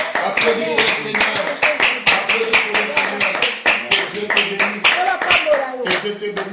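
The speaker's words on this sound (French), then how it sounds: "Applaudis pour le Seigneur." A church congregation claps together in a steady, rhythmic beat, loud and close throughout, with voices mixed in over the applause.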